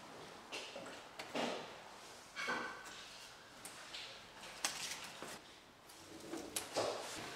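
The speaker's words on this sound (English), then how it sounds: "I have then carefully positioned the door and pressed it onto the mammoth tape, ensuring I press on really hard." An integrated dishwasher door panel is positioned and pressed onto mammoth tape, producing a series of soft knocks, bumps and rustling contact sounds, close and irregular, with no talking.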